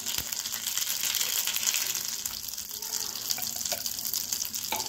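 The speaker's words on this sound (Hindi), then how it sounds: "तेल हमारा अच्छे से गर्म हो गया है, अब डालेंगे हम जीरा और राई डालेंगे।" Cumin and mustard seeds crackle and sizzle in hot oil with a steady hiss and scattered pops.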